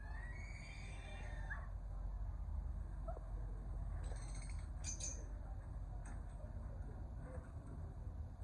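Pet parrots squawking angrily, with a few sharp, piercing calls and chirps scattered over a steady background rumble, fairly faint and intermittent rather than continuous.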